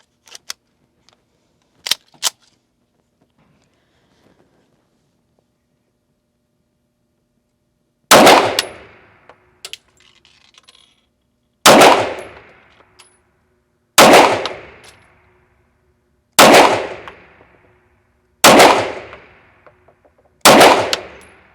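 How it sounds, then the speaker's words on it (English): Six sharp 9mm gunshots from a Springfield Armory Prodigy 1911 DS pistol firing 124 grain ammo ring out one at a time at slow, steady intervals, each loud crack decaying quickly, after a few faint clicks. "we've got 124 grain ammo that we're going to be firing out of it first"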